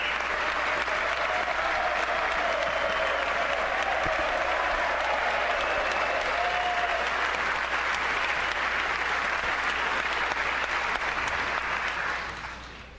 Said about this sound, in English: the Democrats actually got off their butts to sit there and applaud law enforcement